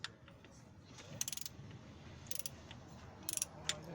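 A torque wrench ratcheting as bolts are tightened to 10 foot-pounds on a 3SFE cylinder head, three quiet bursts of rapid close clicks separated by pauses.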